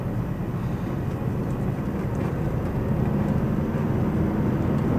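Engine and road noise inside a Mercedes C-Class W204 while driving, a steady low droning rumble that holds constant throughout with no talking.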